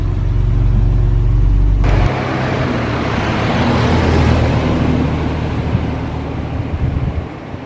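A 1972 Volvo 164 E drives along a road, its engine rumble steady and loud with heavy road and wind noise building as it gathers speed, no voices present.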